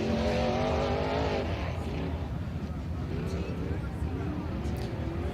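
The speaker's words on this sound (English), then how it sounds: "Now this car's incredible. It has 450 horsepower." A powerful 450-horsepower race car roars along the track during Race of Kings qualifying, a loud sustained engine drone with a falling pitch as it passes, heard continuously under commentary.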